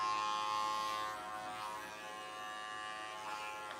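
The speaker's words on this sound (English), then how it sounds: "I'm gonna start with the clipper open." Electric hair clippers buzz steadily with the blade open at a barber's live session, a continuous close, strong hum that eases slightly after the first second and holds, with no talk.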